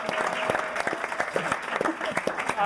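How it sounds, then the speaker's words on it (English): An audience at a comedy-show panel event applauds with scattered, irregular claps of moderate loudness, mixed with faint crowd murmur and a brief voice near the end. "round of applause for the panel"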